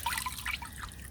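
Water trickles and drips as washed sheep fleece is handled, a short, steady, close splashy dribble with no talk.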